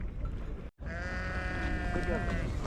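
A flock of about 500 sheep bleats in the countryside of a village near Göbeklitepe, with several clear, wavering calls close by over steady outdoor background noise.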